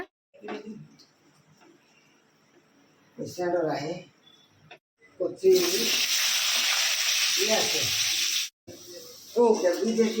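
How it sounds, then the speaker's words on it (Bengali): Peeled, cut potatoes dropped into hot oil burst into a loud, close sizzle that lasts about three seconds, then stops and briefly resumes. Voices talk in the quiet stretches before and between. "আলুটা ভেজে নিব"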